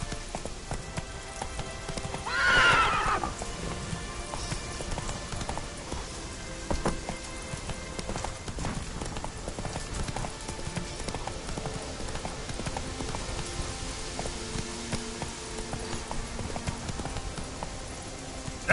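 A horse named Roach in a PS4 video game, its hooves keeping up a steady rhythmic clip-clop throughout, with a short whinny near the start and faint game ambience underneath.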